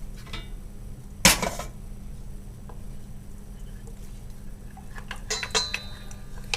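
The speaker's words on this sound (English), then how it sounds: "Give that a good stir" Chicken wings being stirred in Thai red curry sauce, with a sharp metallic scrape of a utensil against the pan followed by scattered clinks and soft stirring noises, close and with little else around.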